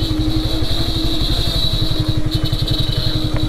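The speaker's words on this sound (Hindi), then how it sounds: "एग्जॉस्ट जो साउंड है वो लो RPM में थोड़ा सा मुझे सुनने में अच्छा लगता है" Yamaha R15 V3 motorcycle idling at low RPM, a steady, close, bassy exhaust burble with even rapid pulses throughout and a faint high whine above it.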